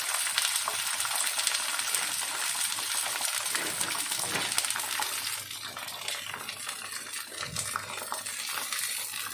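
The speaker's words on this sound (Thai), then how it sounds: "ก็ทอดไฟกลางนะคะไฟกลางๆเนาะ" Crickets deep-frying in hot oil over a medium flame, a dense, steady crackling sizzle that fills the whole stretch at close range, with no voices.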